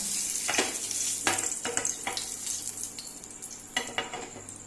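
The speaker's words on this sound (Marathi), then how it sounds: "आतां तेजपत्ता घालुया" Bay leaf dropped into hot oil for a Goan green chicken, giving a steady close sizzle with a few sharp crackling bursts and light utensil clinks, no talk.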